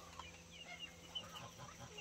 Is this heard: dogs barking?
no